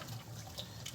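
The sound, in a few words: water being poured into the pot for menudo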